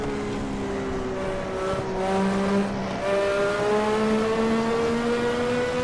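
A formula classic race car engine in Automobilista at Goiania drones loudly and continuously on the last lap, its harmonic tone rising and dipping through gear changes and acceleration, up close from the cockpit.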